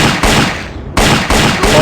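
Machine pistol firing in an Indiana Jones video game, a loud, dense burst of rapid gunfire that pauses briefly and then resumes in continuous bursts, close and saturated, with no talking.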